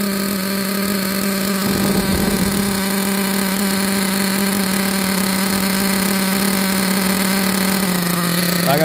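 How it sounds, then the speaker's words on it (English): A Team Associated MGT nitro RC truck engine with a new exhaust pipe buzzes at a high, constant idle, with one brief sharper rev blip near the start, loud and close. "Let's give it a little bit of rev."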